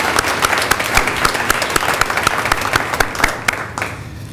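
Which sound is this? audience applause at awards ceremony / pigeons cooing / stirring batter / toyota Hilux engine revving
audience applause at awards ceremony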